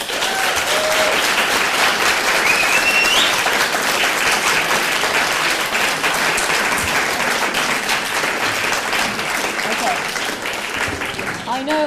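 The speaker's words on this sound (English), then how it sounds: "Can I have a round of applause for both of our speakers?" Sustained applause from a debate audience, thanking both speakers at the close of a public debate on Islam and feminism. Dense, loud clapping fills the room steadily throughout, with faint voices mixed in.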